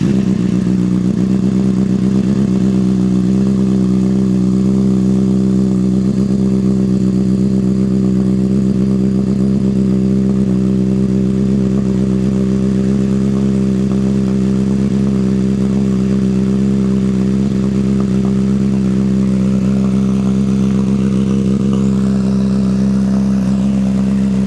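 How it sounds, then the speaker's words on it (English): A Honda CBR600RR motorcycle engine, freshly given an oil change, idles steadily and loudly up close with a constant low hum and no talk. "I'll start the bike, let the bike run for a little bit"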